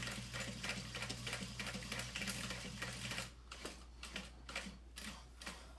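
A sewing machine stitches through a vinyl saddle bag, running steadily with a rapid mechanical chatter, then dropping to a quieter, slower stitching with separate clicks partway through; close and fairly soft, no talking.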